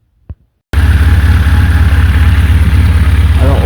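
A Honda CB1300S motorcycle engine starts and settles into a loud, steady idle with an even low throb, running alone without voices after a brief sound at the start.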